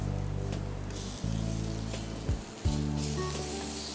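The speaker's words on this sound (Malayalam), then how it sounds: "ഇതിലേക്ക് നമുക്ക് തക്കാളി ചേർത്ത് കൊടുക്കാം." Tomatoes dropped into hot masala in a pan, a steady sizzle with a few brief stirring interruptions and a burst as the pan is disturbed, fairly close and without talk.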